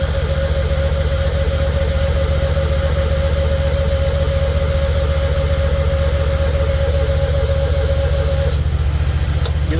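A carbureted Kawasaki FX1000 engine runs at a steady, loud idle, a constant low rumble with a thin whine held above it, unbroken for the whole stretch and close up.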